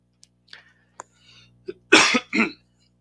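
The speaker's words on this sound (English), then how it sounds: "trying to get over a cough here" A short burst of coughing, two or three harsh close coughs after a few small throat sounds, in an otherwise quiet room.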